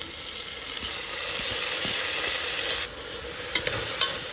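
Sliced onion and fenugreek leaves frying in hot oil, a dense continuous sizzle with a few clinks of a utensil near the end; no talking.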